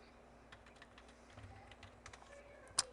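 A computer keyboard is used to type an admin username and password, giving faint, scattered key taps in an uneven rhythm with a sharper click near the end, heard alone in a quiet room.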